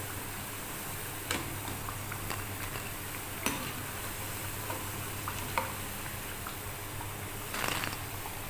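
Moong dal mangodi frying in oil in a pan give a steady, even sizzle throughout, with a few soft clinks and stirring taps over it.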